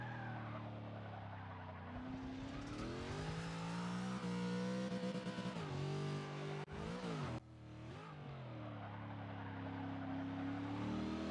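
A Mazda RX7 in Forza 6 revs loudly off the rev limiter with manual gears and clutch, a continuous buzzing engine note that rises and falls through shifts, with tire noise and no talking.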